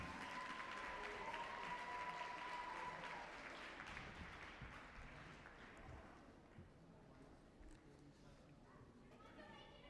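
Audience applause at a national schools cross country championship greets a gold medalist from KwaZulu-Natal, a broad wash of clapping that gradually thins and fades, with chatter and murmuring voices mixed in.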